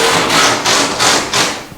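Hammering as new sheetrock goes up in a house being renovated: four or five broad, scraping strikes in an uneven rhythm, close and fairly loud, with no talk.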